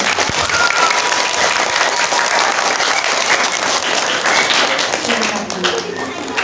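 Audience at a Ramadan Qur'an completion ceremony at an Islamic primary school claps for an award presentation, sustained dense applause that tapers slightly near the end as a voice emerges.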